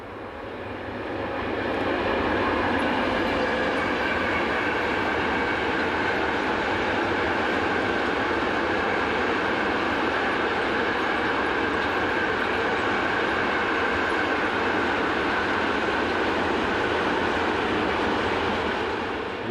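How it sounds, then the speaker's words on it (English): An Alstom electric locomotive from a class introduced from 1988, number 26116, hauls a freight train, giving a loud, steady, continuous rumble and rail roar throughout, with no talking. "The locos are now firmly established on all kinds of freight services."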